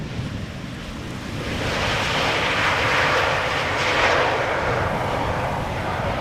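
Embraer jet at Amsterdam Schiphol Airport, a rising, swelling engine roar that builds after the first second and holds loud and broad, like a takeoff or close pass, with no talk.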